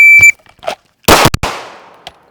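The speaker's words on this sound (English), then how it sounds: "I'm just going to press 2 rounds as quick as I can." Two rapid pistol shots fired at a shooting drill using iron sights: a sharp timer beep, then two loud, close cracks in quick succession, the second trailing into a fading ringing decay.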